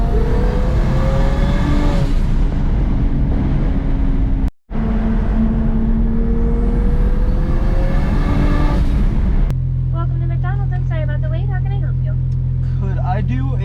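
A turbocharged BMW N54 engine pulls hard under steady road noise, its pitch climbing through the gears with boost turned up, then drops to a lower drone as a voice talks briefly.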